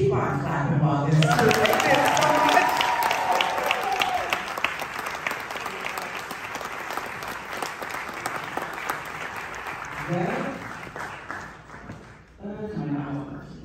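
Sustained audience applause at a Black-ish farewell panel event in Washington DC, steady, dense clapping from a crowd for most of the stretch, with voices and some music-like tones under it, thinning briefly near the end before picking up again.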